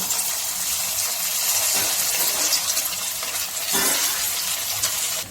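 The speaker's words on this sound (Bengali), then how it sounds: "এবারে আমি চিকেন মাঞ্চুরিয়ান বলগুলো ভেজে নেব।" Chicken manchurian balls fry in hot oil with a steady, loud, continuous sizzle and gushing bubble that fills the whole stretch, with a few faint clinks underneath.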